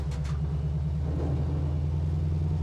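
A 1968 Dodge Charger R/T junkyard build idles with a lopey, choppy rhythm, its low engine rumble pulsing steadily and close, with no talk.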